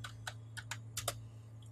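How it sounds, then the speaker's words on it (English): Light keyboard typing: a handful of quick, irregular key clicks, fairly soft and close, over a quiet background hum. "That's because I was typing."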